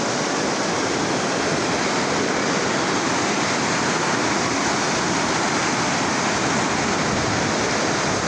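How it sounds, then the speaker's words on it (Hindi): River water rushes at the Ganga confluence at Devprayag as a loud, dense, unbroken roar, steady throughout with no voices. "एक नदी शांत है, एक उफान मार रही है।"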